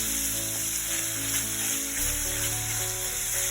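Chicken and shrimp fry steadily in a pan for a Thai-style soup, a continuous close sizzle with a faint low hum beneath and no voices.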